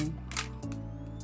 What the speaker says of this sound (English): just the shutter